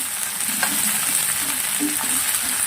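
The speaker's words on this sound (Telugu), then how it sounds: "హైలో పెట్టుకొని ఒక 5 మినిట్స్ ఇలాగ ఫ్రై చేస్తూ ఉండండి." Okra and onions fry on high heat in an iron pan, giving a continuous hissy sizzle with faint scraping stirs, close and steady, with no voices.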